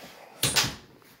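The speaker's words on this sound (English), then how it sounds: "Let's close this door." A house door swings shut with a sharp, close thud followed by a second knock as it settles into the frame, then quiet room tone.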